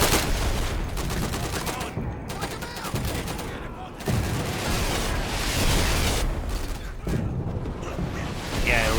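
A heavy artillery barrage pounds away in the game Insurgency: Sandstorm, with continuous rumbling blasts and overlapping gunfire forming a dense, loud roar that barely lets up, and a voice briefly talking over it.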